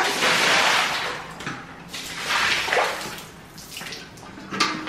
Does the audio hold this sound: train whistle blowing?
no